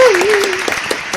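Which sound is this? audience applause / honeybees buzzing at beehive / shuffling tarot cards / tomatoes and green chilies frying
audience applause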